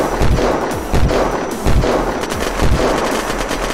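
Gunfire in the game Unturned, loud repeated bursts of shots close by, arriving in rhythmic volleys roughly every second over a constant background rumble.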